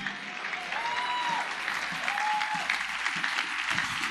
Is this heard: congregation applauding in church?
yes